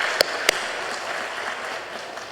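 Church congregation applauding to welcome a newcomer during a Sunday service, a soft continuous wash of clapping from a crowd, with two sharp louder claps near the start and then steady murmuring applause.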